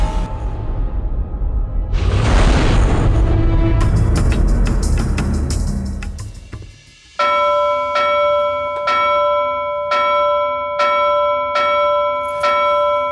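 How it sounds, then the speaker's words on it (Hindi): A bell rings out in a steady series of repeated clear strikes, loud and close, following a stretch of louder mixed commotion; no talk over the ringing. "बंद कर घंटी बजाना।"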